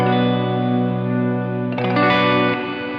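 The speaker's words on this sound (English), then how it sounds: "Now, church is a large cathedral sound." Sustained electric guitar chord through an ALABS Cetus pedal set to its church reverb, a large cathedral-like wash that swells and shimmers as a new chord rings in, dense and long-decaying with no talking.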